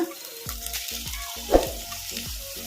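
Spinach leaves and green chillies frying over a medium flame for a spinach buttermilk curry, a soft sizzle under a regular run of thumping, scraping stirs in the pan, close by and without speech.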